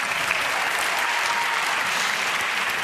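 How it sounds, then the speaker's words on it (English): Sustained applause from a large audience at an award ceremony, cheering two musicians, dense and even clapping with no pauses. "can we get one more big applause for our two amazing musicians?"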